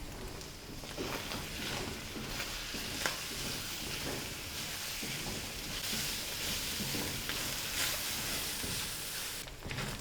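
Minced meat (qeema) with turmeric fries in hot oil in a karahi, a steady close sizzle with stirring scrapes throughout.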